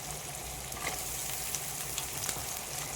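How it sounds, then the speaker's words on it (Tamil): Turkey berries fry in a pan for a village-style kuzhambu, giving a steady, dense sizzle throughout with small crackles and pops over it. "அடுத்தது சுண்டைக்காவை இதில் போட்டுக்கலாம்"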